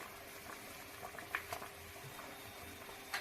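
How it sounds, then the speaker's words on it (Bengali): Hilsa fish curry gravy boiling in a pan, soft steady bubbling with occasional small pops, quiet and close, no voices. "ঝোলটা খুব ভালোভাবে ফুটে গেছে"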